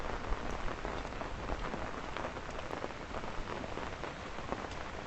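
Rain pours during a morning hike in Hong Kong, a dense, even hiss of drops striking surfaces that runs on its own without a break.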